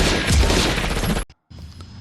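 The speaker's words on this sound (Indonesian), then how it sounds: "Kekisruhan terjadi saat orang-orang Dorian mulai menembakkan senjatanya." Dense gunfire during a chaotic party scene in the 1994 film The Mask, a loud continuous fusillade that cuts off abruptly, followed after a brief silence by quieter background noise.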